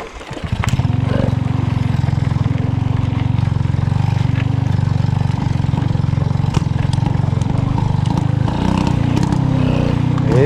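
A Peugeot 103 moped engine sputters into life and keeps running unevenly, a loud, close, steady motor drone with a slightly ragged pulse throughout, struggling after a hard start.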